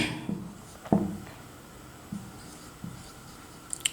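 Writing on a board during a classroom grammar lesson: sparse, quiet taps and short scratchy strokes spread over a few seconds, with no voices.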